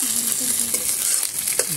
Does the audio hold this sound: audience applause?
no